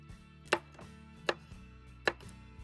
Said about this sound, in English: finely chop half a green pepper